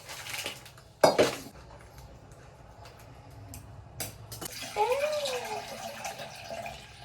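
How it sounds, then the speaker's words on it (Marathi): A steel pot and kitchen utensils clink and clatter on a home stove while milk is heated, with a couple of sharp metallic knocks and a soft scraping sweep against low kitchen background noise. "आता बघा मी दूध कसं तापवते."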